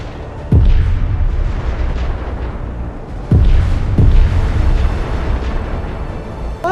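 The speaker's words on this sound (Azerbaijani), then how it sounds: "snayperlərdən və iri çaplı silahlardan güclü atəşə tutur" Heavy fire from snipers and large-calibre weapons in a war film battle scene: loud booming blasts strike at intervals, three big reports with rumbling tails over a continuous din.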